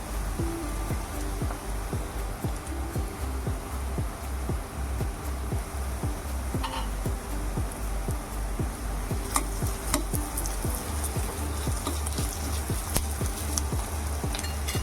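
Ginger garlic paste frying in a pan for homemade pav bhaji, a steady soft sizzle with a rhythmic scraping of a spoon stirring throughout.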